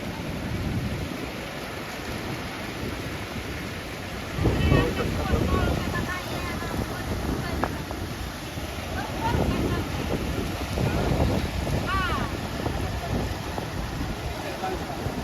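Floodwater of the Takli river in Beed surging over its banks after a sudden overflow, a steady loud rushing roar with wind buffeting the microphone and a few surges throughout.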